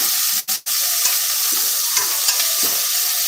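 A yardlong bean bhorta mixture is stirred in a hot pan with salt, giving a steady close sizzle with a few soft scraping strokes and two short breaks near the start.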